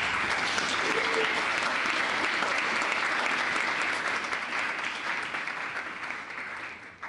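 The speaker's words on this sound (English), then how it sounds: "I think that's an applause." Audience applause at a European Commission event fills the room, steady and sustained clapping that gradually thins and fades toward the end.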